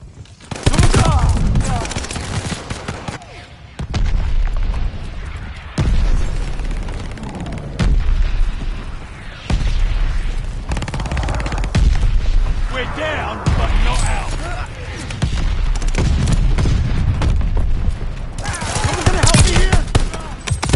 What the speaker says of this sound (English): Mortars incoming! Get out!